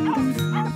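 A dachshund (wiener dog) gives short barking yips close by, two or three quick bursts filling the brief moment, from a 2016 film trailer.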